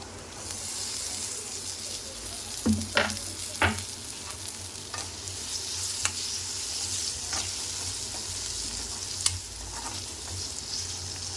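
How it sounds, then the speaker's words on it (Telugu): Chopped tomato frying with onions in a pan for an egg puff filling gives a steady sizzle, broken by sharp clinks and scrapes of stirring, close and moderately loud. "ఇప్పుడు మనం దీంట్లో కట్ చేసుకున్న టమాటా ఉంది కదండి, ఒకటి, అది వేసేసుకుందాం"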